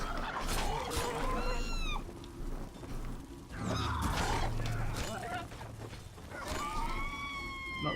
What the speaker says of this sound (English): Yeah, that's a harpy.